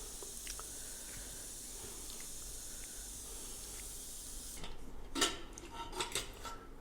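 A new pressure cooker is handled and opened after cleaning. A soft hiss gives way to a few sharp metallic clinks and clatters of the lid and vessel near the end, close and fairly quiet, with no speech.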